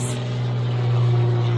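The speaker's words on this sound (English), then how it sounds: "Sorry about the plane, you guys." An airplane passes overhead above a home garden, giving a steady, loud engine drone that swells slightly over under two seconds, with no talk over it.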